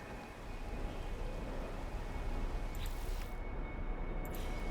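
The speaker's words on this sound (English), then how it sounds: "I really wish the storm wasn't going on and we could get a better look at these." Steady broadband rain hiss of a storm on an alien planet in No Man's Sky, continuous and fairly loud throughout with a faint tonal hum and a few brief crackles near the end, no talk.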